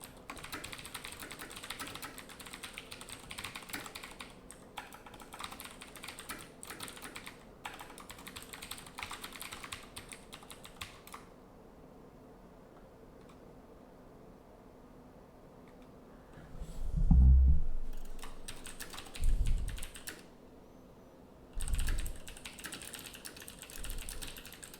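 Rapid, continuous clicking of computer keyboard typing fills the first half, then falls quiet, followed by a few louder dull knocks near the end; no one speaks.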